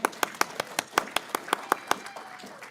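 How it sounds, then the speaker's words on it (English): A small church congregation claps in a steady rhythm, about a dozen crisp, evenly spaced claps, fairly quiet and close, then fading out. "Now we can clap."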